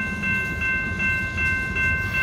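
A Metra commuter train passes Elmhurst station during evening rush hour, a steady clatter and rumble of railcars under a sustained multi-tone bell or warning tone, close and loud with no voices.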